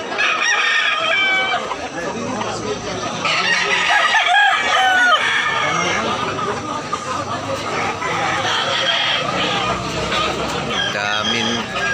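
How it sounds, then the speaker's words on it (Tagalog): Chickens and roosters at a poultry market in Tabunok, Talisay, Cebu, with loud, close, repeated crowing and clucking from several birds and people talking throughout. "Daming manok."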